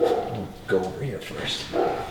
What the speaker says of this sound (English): So you can hear my whole neighborhood going off.